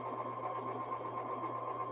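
A sewing machine with a quarter-inch foot runs at steady speed stitching jelly roll strips for a race quilt, a close, even, humming whir throughout.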